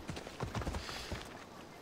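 Horse hooves in Assassin's Creed Odyssey clip-clopping at a quick, rhythmic pace for under two seconds, faint and fairly close, with no talking.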